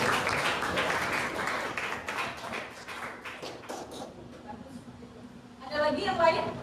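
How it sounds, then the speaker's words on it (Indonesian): Clapping from participants at a teacher mentoring session on differentiated teaching, moderately loud and spread across the first few seconds, then thinning out before talk resumes near the end. "Kasih tepuk tangan dong."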